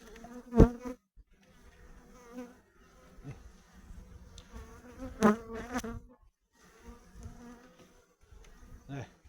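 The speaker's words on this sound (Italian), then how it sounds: "Ci sono un sacco di api anche quello." Honeybees buzz around an open beehive during an inspection of brood frames, a soft continuous hum broken by loud wooden knocks and handling clatter of the hive parts.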